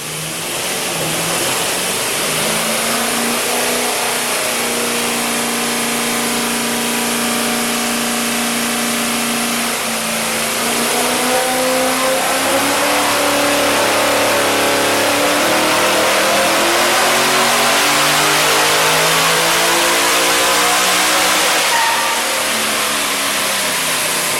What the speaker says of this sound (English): I'll set it up and we'll do a power run